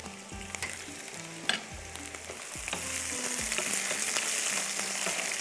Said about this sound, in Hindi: ये जो कतलियाँ फ्राई हो रही है ना